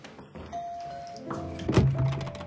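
Doorbell ringing in a home, a clear electronic chime of a couple of tones with a dull thunk nearby.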